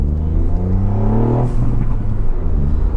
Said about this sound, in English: hopefully you can hear the exhaust, because I think primarily we should talk about the exhaust as it's a Scorpion demo vehicle